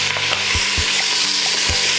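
Onions sizzle in a hot Instant Pot as a utensil stirs them, giving a close, steady frying hiss broken by several distinct scraping and tapping strokes against the pot.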